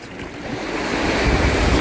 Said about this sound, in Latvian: Latvijas vasaras jūriņa.